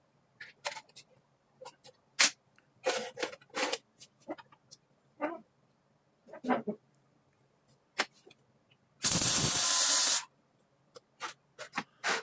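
Short bursts of a Lincoln MIG welder running 035 wire with argon CO2 shielding gas, tack welding custom-fit parts, with one sustained loud buzzing weld of about a second among scattered clicks and handling noises.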